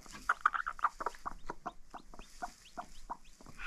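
A hen on a small farm clucking in a quick, rhythmic series of short, close, fairly loud calls, continuing steadily throughout with no talk.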